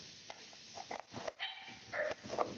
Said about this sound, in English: Maybe my dog in the back room. She don't like this conversation.